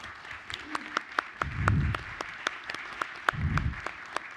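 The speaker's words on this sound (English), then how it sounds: "please give them a round of applause" A school board meeting audience gives a thin round of applause, with scattered, distinct claps in a loose rhythm and two short bursts of low voices mixed in.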